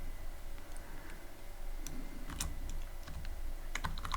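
Sparse, uneven keystrokes on a computer keyboard while Python code for a rock, paper, scissors game is entered, with soft clicks and a few quick bursts over a steady low room hum.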